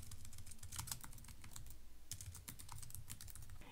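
Rapid clicking of keys on a computer keyboard, a quiet close run of typing keystrokes with a short pause midway over a low background hum.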